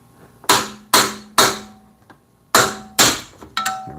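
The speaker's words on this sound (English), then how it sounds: "I need a couple little wraps with the hammer." Sharp metallic hammer taps on an antique outboard motor to knock a part loose, six distinct close blows in two groups of three, each ringing briefly and decaying, with quiet gaps between.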